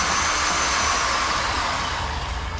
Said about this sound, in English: this is a variable speed, so I'm going to rev it up a little bit more and spin it drop